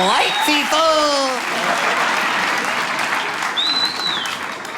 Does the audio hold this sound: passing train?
no